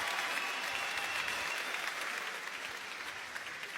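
A large stadium crowd at a concert in France applauds loudly and steadily, a dense sustained wash of clapping and cheering throughout.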